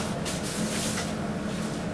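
Hiss of a light spray of 70% isopropyl alcohol misted onto gloved hands in a pharmacy IV room; a steady, close broadband spray lasting about two seconds, with no talking.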